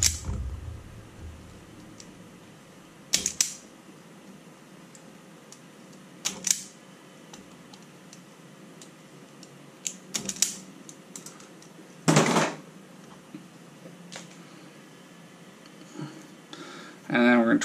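Flush cutters snip excess wire ends while wiring a Controleo 3 reflow oven controller, giving a few sharp, isolated clicks spaced several seconds apart, close by over a quiet room background.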